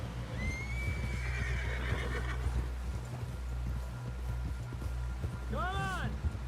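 A horse whinnies in the Red Dead Redemption 2 video game, one long neigh early and a shorter one near the end, over steady clip-clop hooves and a low rumble, with talk mixed in.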